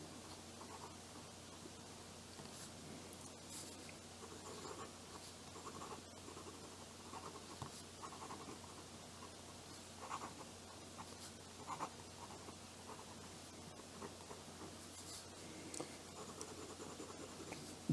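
A Faber-Castell Loom medium fountain pen nib scratches across paper in a quiet room, a faint, dry, continuous scraping with small irregular ticks from the stiff nib.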